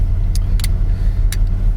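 A 1959 Cadillac sedan's engine idling rough on cold choke at about 39 degrees, a steady low rumble up close with a few brief higher clicks on top.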